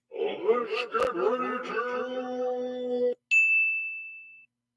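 A voice hums and moans for a few seconds, then a single clear, bright ding rings out alone and slowly fades.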